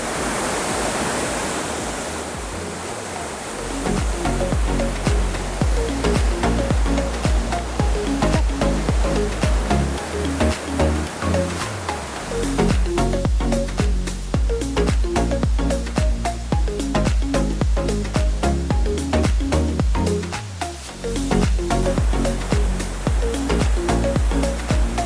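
Siringo waterfall on Paropo seen from its second tier, a loud, continuous roar of falling water. A brief softer rush opens before the full, steady wash sets in and carries on without a break.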